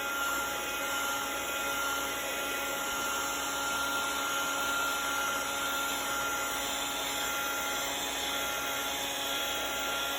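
A handheld heat tool blows hot air onto a textured background as a loud, constant whirring roar with a steady tonal whine, unbroken and close for the whole stretch.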